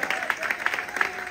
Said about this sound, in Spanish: Dele ese aplauso de gratitud al Eterno